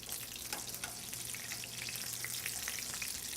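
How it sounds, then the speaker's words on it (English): Meatballs frying in a pan, a steady close sizzle with a bright hiss and scattered crackling pops, no voices. "This is just the way we would be cooking meatballs."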